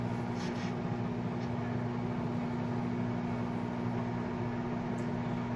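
Microwave oven running to warm a lime, a steady mechanical hum with a constant low tone, close and unbroken throughout.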